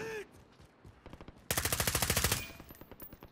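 Automatic gunfire in Call of Duty: Modern Warfare, a rapid evenly spaced burst of about a dozen loud shots lasting around a second, preceded and followed by quieter scattered pops.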